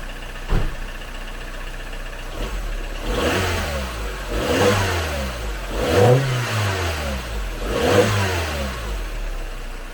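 A Mini Cooper engine fitted with an electric supercharger idles, then is revved four times in steady succession. Each rise and fall of the revs is clear and close against the low idle.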